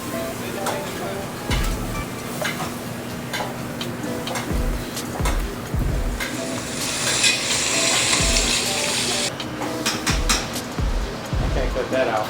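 Butter sizzles in a hot pan in a restaurant kitchen, a bright hiss that swells midway, mixed with rhythmic ticking, thuds of utensils and people talking nearby.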